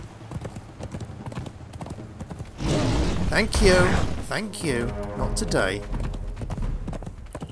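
Horse hooves clip-clop steadily in the Conan Exiles video game, a close rhythmic trot running through the clip, with someone talking briefly over it.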